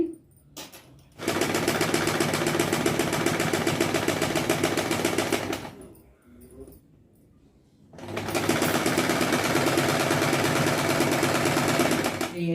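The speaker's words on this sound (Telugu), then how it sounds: "అంత నుంచి ఇలాగా కుట్టుకుంటూ వెళ్ళిపోండి దారం వెంబడే మనకు కుట్టుబడాలండి" Sewing machine stitching along a thread to form thread piping, running in two long continuous bursts of rapid, steady whirring with a brief pause between, close and loud with no talk.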